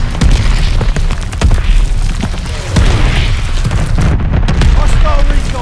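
Repeated heavy booms from a called-in bombing run in the Call of Duty: Vanguard multiplayer match on the Shipment map, several deep blasts rolling over each other amid constant gunfire, loud and dense from start to finish.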